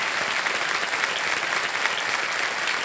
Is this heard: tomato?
no